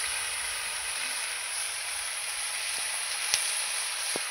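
Spice paste of ground cumin and chili frying in a pan for a Bengali fish curry, a constant close hiss and sizzle with a few small pops and clicks, no voices.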